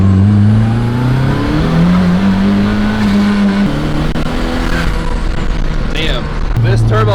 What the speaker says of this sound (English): This turbo actually comes in a lot better than I thought it would.